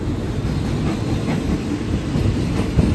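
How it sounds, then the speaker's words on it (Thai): A Thai SRT local train, number 445, rolls into a station with a continuous low rumble and rhythmic wheel clatter, loud and close, with a faint squeal near the end and no talking. "ทำขบวนเข้าสู่สถานีทุ่งคาในทางที่1นะครับ"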